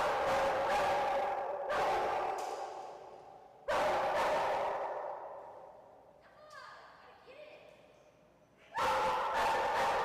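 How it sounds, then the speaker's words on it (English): A dog barks in several loud, close bursts with pauses between, each bark trailing off, with a faint whine in one gap. "No good done by barking at it."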